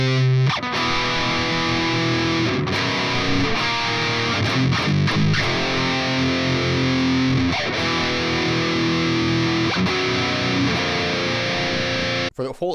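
Distorted electric guitar chugs power chords through an interlude section, dense and loud with rhythmic chord changes and brief stops, no voice.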